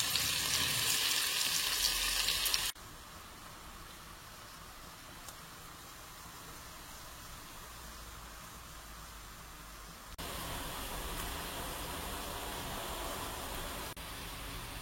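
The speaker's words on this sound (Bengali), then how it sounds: "এখন মাছের জন্য শুকনো মরিচ আর পেঁয়াজ বেরেস্তা করে নিচ্ছি।" Dried chillies and onions frying in hot oil for fish, a dense continuous sizzle that is loud at first, drops to a softer steady crackle, then swells again near the end, with no talking.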